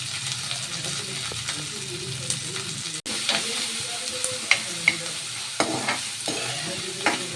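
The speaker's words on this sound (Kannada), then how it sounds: "ಇದಕ್ಕೆ ಈರುಳ್ಳಿ, ಕರಿಬೇವು, ಹಸಿಮೆಣಸಿನ್ಕಾಯಿ ಎಲ್ಲ ಹಾಕ್ಕೊಂಡು ಚೆನ್ನಾಗಿ ಫ್ರೈ ಮಾಡಬೇಕು." Onions, curry leaves and green chillies fry in oil for a spicy chicken pepper dry, giving a steady close sizzle with scattered utensil clicks and stirring scrapes throughout, no voices.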